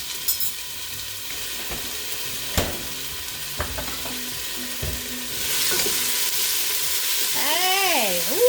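Chopped garlic going into a pan with chopped celery: a steady, close sizzle that grows louder and hissier partway through, with light utensil clicks and a brief squeaky sound near the end, no talking.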